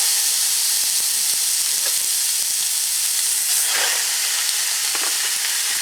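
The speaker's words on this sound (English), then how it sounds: "the second thing we need to do here is brown off some meat" Pork browns in a hot pan with a loud, continuous sizzle and hiss, a few faint stirring scrapes rising now and then through the steady frying noise.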